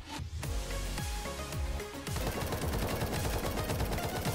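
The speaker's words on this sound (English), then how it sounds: "Follow the gunfire." Rapid bursts of video game gunfire from War Tycoon crackle nonstop, a machine-gun-like stream of sharp shots at moderate volume.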